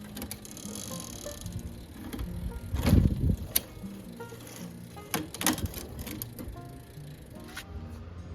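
The front derailleur of a recumbent bicycle with a bent derailleur cage shifts while the drivetrain spins, producing close mechanical clicks and a rattling, grinding chain noise that swells briefly mid-clip.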